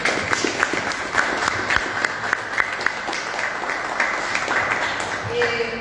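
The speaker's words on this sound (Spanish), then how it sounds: "También fuerte el aplauso." Audience applause at a cultural conference on writing in the Gran Desierto, steady clapping from a room of people with a few sharper individual claps standing out.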